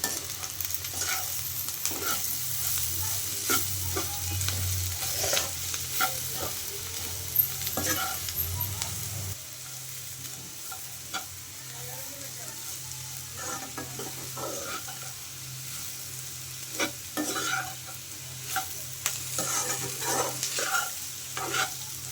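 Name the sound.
dondakaya (ivy gourd) frying, stirred with chilli and masala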